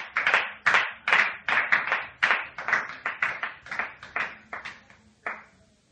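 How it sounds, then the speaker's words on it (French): A church congregation claps in rhythm to acclaim Jesus at a Pentecost service, about a dozen loud, evenly spaced bursts of hand claps that slow and thin out toward the end, with no voices over them. "On acclame le Seigneur Jésus."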